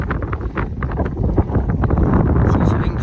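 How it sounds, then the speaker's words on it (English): Wind gusts across a sailboat at sea on a hazy day, a steady rushing buffet against the microphone with faint creaks and splashes underneath. "there's actually quite a wind, a little bit of wind"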